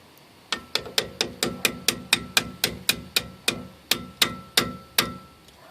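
Rapid metal hammer blows ring out close by on rear brake parts of a 1996 Ford F250 XL truck, about twenty sharp strikes in a steady rhythm with a brief pause near the end.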